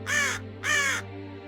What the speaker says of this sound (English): occasionally you can hear a crow caw in the distance